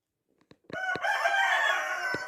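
A rooster crows loudly and close by in one long, strained call, preceded by a few soft clucks and small knocks.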